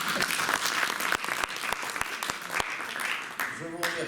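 An audience at a French political meeting applauds a departmental secretary, sustained crowd clapping with a few louder individual claps, and a voice briefly heard near the end.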